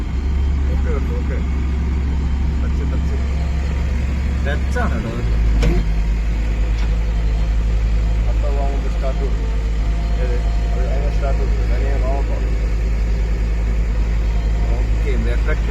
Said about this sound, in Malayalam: ഇത് കുറച്ച് സമയം ഇങ്ങനെ ഹൈഡലിങ്ങിൽ കിടക്കണം.